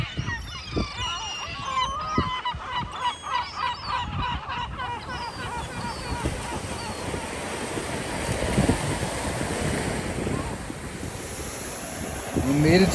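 Mediterranean Sea waves wash onto the shore on a French coast at breakfast, a steady broadband surf with wind, joined early on by honking geese or birds that fade as the wash swells louder toward the end.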